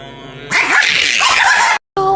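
A small chihuahua gives a loud, harsh burst of barking or yapping that lasts about a second, then stops abruptly, with a short sound afterward.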